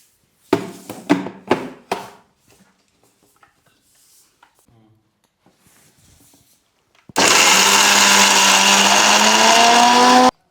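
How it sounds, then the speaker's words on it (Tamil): A few hard knocks and clatters come first, then a kitchen blender starts with a loud, steady, whining grind as it mills soaked toor dal with coconut, cumin, pepper, dried red chillies and coriander for about three seconds. "நம்மளும் பருப்பையும் நல்லா அரைச்சி எடுத்தாச்சு"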